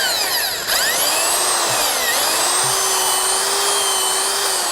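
A power drill drives an auger into the ground with a loud, close, high whine that holds steady, its pitch dipping and sliding as the bit meets resistance, with a brief stutter near the start.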